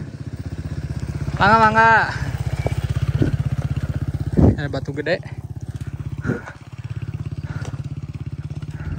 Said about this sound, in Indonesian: ada warga yang melintas naik motor